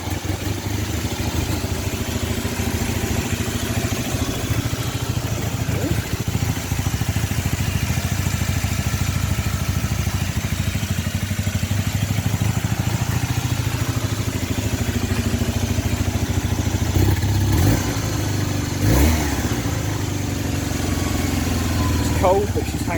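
A Honda CB250N motorcycle engine idling steadily for a long stretch with the engine cold, a constant low rumble with some light clatter near the end.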